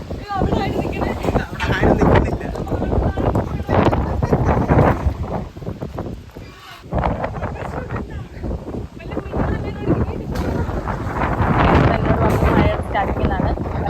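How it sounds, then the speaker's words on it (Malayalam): Strong gusty wind of a dust storm in Gujarat buffets the microphone with loud roaring rushes, while people talk over it throughout. "ഭയങ്കര പൊടി കാറ്റൊക്കെ ഒക്കെ അടിച്ചപ്പോൾ കൊടുങ്കാറ്റ് വരുന്ന ഫീലാണ്"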